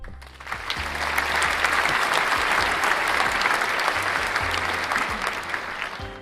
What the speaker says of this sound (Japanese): 拍手喝采が沸き起こった。